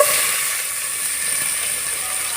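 Onion paste and chopped garlic frying in a pan for an egg do-piyaza, a steady close bright sizzle and hiss holding evenly throughout with no pauses.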